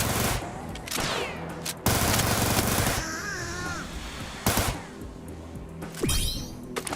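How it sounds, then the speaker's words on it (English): Gunfire in the TimeSplitters Rewind video game: loud bursts of rapid shots with short pauses between them, mixed with chunky hit-marker clicks as rounds land on an enemy. "There are hit marker sounds that play when you land hits on an enemy"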